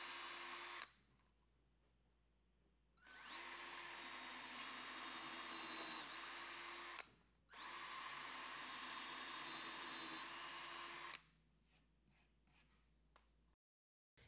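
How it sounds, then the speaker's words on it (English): Drilling 3/4-inch diameter holes through the right side rail of a Murphy bed, two long, loud, steady bursts of drill whine separated by a short pause, with quieter workshop noise before and after. "Drill 3/4-inch diameter holes through the right side rail."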